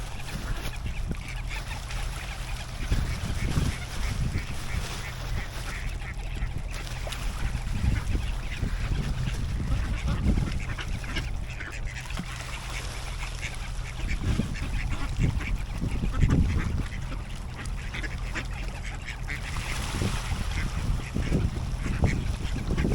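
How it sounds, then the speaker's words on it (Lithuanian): Ducks quack and honk near water as they are fed a loaf of bread, the calls scattered and moderately distant over continuous outdoor background noise, without speech. "O pasitinka antytės kaip, vieną jau matau stovi"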